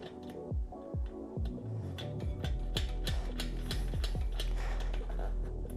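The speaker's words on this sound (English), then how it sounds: "Thread that nut on a few turns." A nut is threaded by hand onto the valve stem of a tire tube, giving a steady run of close, soft metallic ticks and scrapes that turn in a quick rhythm against a constant low background hum.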